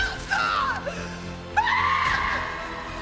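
A woman screams in frustration, two long strained cries with a pause between, loud and close, in a film scene.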